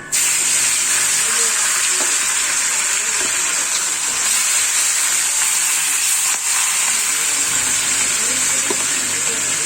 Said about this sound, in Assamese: মই এয়া নিমখ হালধি সানি লোৱা মাছখিনি এপিচ এপিচকৈ ফ্ৰাই কৰি ল'ম